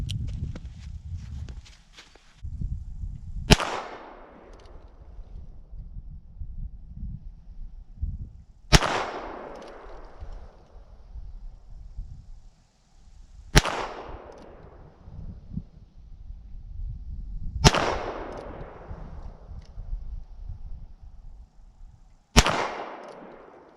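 Five sharp, loud gunshots from a Heritage Manufacturing Barkeep Magnum revolver ring out at spaced intervals of about five seconds, each with a quick decaying echo, over low background rumble and handling noise.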